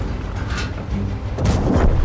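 Artillery fire in a tank battle video game sounds as heavy, rumbling booms rolling over each other, loud and dense, with a stronger blast toward the end and no talking.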